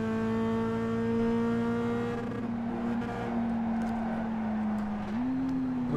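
A race car engine in the iRacing sim over-revs, holding a loud, steady high-pitched whine that sags slightly then climbs again, with gear noise underneath and no talking.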